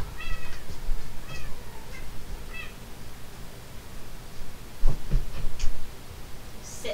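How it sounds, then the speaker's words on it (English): A cat meows repeatedly from nearby, several drawn-out cries in the first few seconds, then goes quiet; a couple of brief knocks or taps follow toward the end. "There's a cat that wants in."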